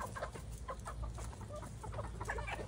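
Native chickens on a farm cluck in short, scattered bursts, fairly quiet and close, with several birds calling intermittently over a low background rumble.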